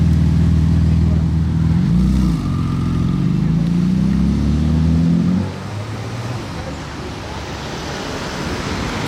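Porsche GT2 RS exhaust with its valves open, a loud close engine rev that rises and falls, then drops into idle rumble and background noise.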